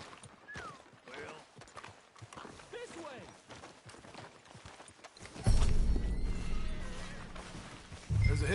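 Horse hooves clip-clop steadily in the video game Red Dead Redemption 2, mixed with game sounds and voices talking over them, before a louder, rumbling stretch takes over.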